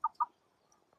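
Two quick, close clucks from 9-week-old chickens in a sectioned farm house, followed by near silence and a faint cluck at the end.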